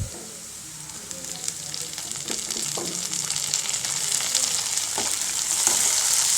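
Tomatoes tossed into softened onions with fennel, curry leaves, ginger and garlic for potato poori masala, a loud steady sizzle with intermittent stirring scrapes.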